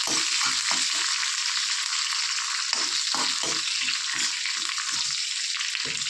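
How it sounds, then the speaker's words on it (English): A tadka tempering crackles and sizzles loudly in hot oil for Tirupati-style sambar, a dense continuous hiss with small pops and no talking. "It's a very simple tadka."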